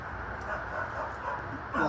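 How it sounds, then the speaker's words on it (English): A dog barks and yips repeatedly at a moderate distance in a neighbourhood dispute, short sharp bursts mixed with whimpering, while people talk nearby. "You can't have your dog barking all day."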